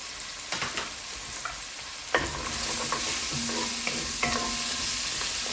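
Diced potato sizzles and fries in a hot pan with garlic for hash browns, a steady broadband hiss rising after a couple of seconds, punctuated by clear scraping and clacking stir strokes at close range, with no talk.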